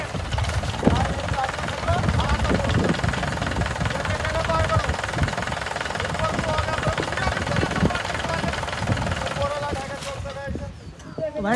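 A Mahindra 575 diesel tractor engine chugs steadily and loudly throughout in a field, with rattling and knocking, while someone talks over it.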